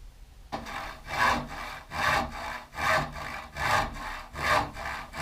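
A saw cuts through a wooden floor sheet for a 1970 VW camper bus, about six slow, even back-and-forth strokes rising and falling in a steady rhythm, close and moderately loud with no voices.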